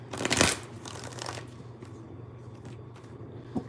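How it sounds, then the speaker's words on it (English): Tarot cards are shuffled by hand, opening with a loud riffling burst, then lighter flicking and sliding, ending in a single snap as a card flies loose. The sound is close and no one speaks. "this card just flew out while I was shuffling"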